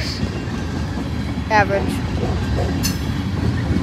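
A Norfolk Southern manifest freight train hauling hopper cars rolls past with a steady low rumble and rhythmic wheel clatter, close and continuous. A brief squeal and a few clanks rise above it while a person talks quietly over the noise.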